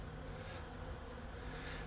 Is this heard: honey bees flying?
yes